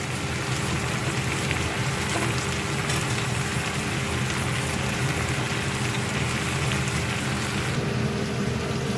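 Carrots, beans, green chillies and eggplant fry together in a pan, giving a steady, dense sizzle that keeps up unbroken and fairly loud, with no voices.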